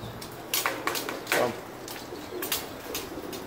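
Pigeons in Las Vegas cooing and fluttering nearby, with soft repeated calls and brief bursts of wing flapping against a light background hum.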